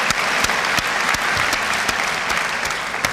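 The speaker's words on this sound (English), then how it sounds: "I think we should give them a big round of applause right now, everybody." Loud, close audience applause at a spoken-word poetry event, a dense burst of clapping from an enthusiastic crowd that holds steady for a few seconds.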